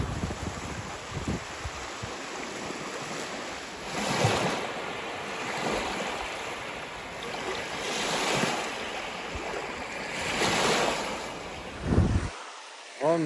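Sea waves roll onto a sandy beach at Yyteri near Pori in Finland, surging and receding in slow repeated swells under steady wind buffeting the microphone, with no talk.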